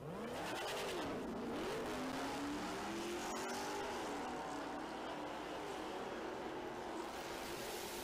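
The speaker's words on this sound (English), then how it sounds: "Myers out of North Carolina in the gray Superstock Dodge right side. The 2012 pickup truck for Ryan Walton out of Duluth, Georgia, left-hand side." Superstock Dodge and a 2012 pickup truck launching side by side at a drag race, distant engines roaring and rising in pitch as the two pull away down the strip, heard faintly with crowd ambience.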